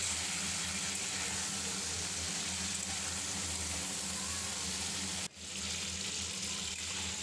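Turmeric and vegetables fry in a pan with a constant, dense sizzle and hiss heard up close, interrupted briefly by a short dip near the end before the frying noise resumes.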